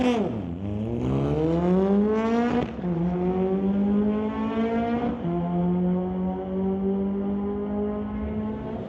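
A 1973 VW Beetle and a 2015 BMW M235 in a drag race, engines revving hard through repeated rising gear pulls, loud and continuous with harmonic whine climbing and dropping at each shift.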